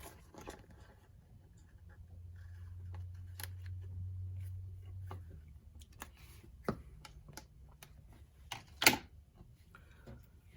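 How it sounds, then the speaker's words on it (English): Scissors trim paper for a handmade journal, with a run of soft, close snips and crisp cuts, a brief low hum partway through and a louder paper rustle near the end, quiet overall. "I'm going to cut this down. I'm going to trim this one down."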